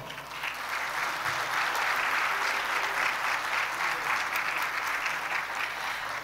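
A room full of people applauds steadily, dense clapping holding at an even level for several seconds.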